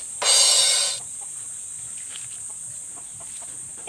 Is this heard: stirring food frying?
no